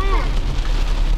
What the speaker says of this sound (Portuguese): E tome chuva.